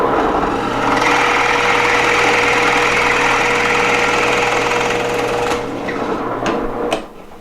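A drill press bores a large-diameter hole with a steady, loud mechanical drone and whine, holding even for several seconds before the cut eases off and winds down, with a few light clicks near the end.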